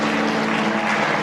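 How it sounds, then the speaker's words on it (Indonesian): A church congregation breaks into loud, lively applause after a worship song, a dense continuous wash of clapping held steady throughout with no voices on top. "Yang merasakan hadirat Tuhan kasih tepuk tangan yang meriah"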